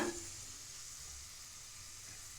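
Chakli dough of raw flour goes into very hot frying oil, starting with a brief splash and then settling into a soft, even sizzle that holds for a couple of seconds.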